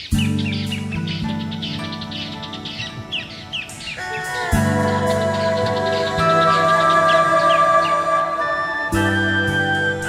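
Birds chirping and singing outdoors in a quiet natural setting, with repeated bright calls layered over a steady tonal background.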